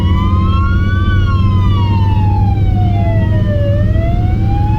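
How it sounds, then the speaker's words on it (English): A Polish ambulance siren wails loudly and continuously, its pitch sweeping up and down over a steady rumble of road traffic. "Am I listening to another siren?"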